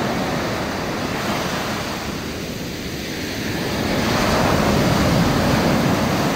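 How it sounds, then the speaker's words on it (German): Ocean waves surging and breaking on a beach in Gazipasa, a steady broad wash of surf with wind that swells louder toward the end, no voices. "Da seht ihr dann mal, wie die Wellen kommen"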